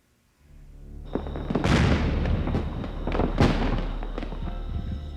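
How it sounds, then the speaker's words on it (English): The annual fireworks display at Lake Nasworthy crackles and booms in several loud bursts over a sustained musical tone, with sharp bangs near the start and middle and rumbling tails between them. "At 9 p.m., Shane and Sally watched the annual fireworks display at Lake Nasworthy."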